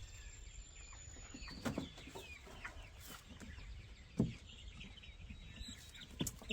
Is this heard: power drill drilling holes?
no